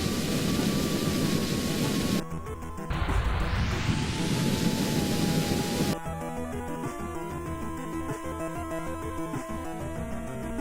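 Spacecraft engine burning at full throttle during a retrograde slowdown in the Kitten Space Agency game, a steady loud roar with a rising whine in the middle, then a layered droning hum continuing to the end.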